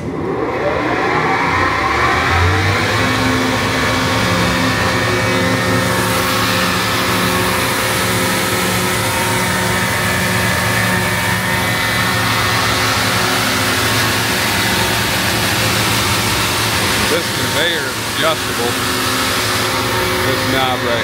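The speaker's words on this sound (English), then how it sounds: "Fan blower." Steady mechanical whir with a low tonal hum from the fan blower of a Stoelting AQF-118 pass-through heated parts washer, running continuously and loud throughout.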